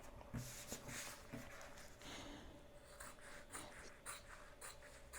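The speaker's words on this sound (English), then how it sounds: "I'm going to grab my scissors here and cut each one out." Scissors snip out iron-on sublimation patches, a few sharp close cuts and paper rustles coming in irregular bursts, fairly quiet with no talk.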